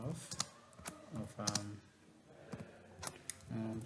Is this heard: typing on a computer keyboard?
yes